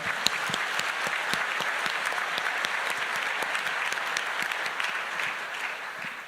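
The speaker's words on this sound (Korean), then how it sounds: "그분들을 위해서도 박수 한번 보내주시기 바랍니다" A congregation at an Easter service breaks into continuous applause, many people clapping together in a dense, even roar with a few sharper claps standing out near the front, holding steady throughout.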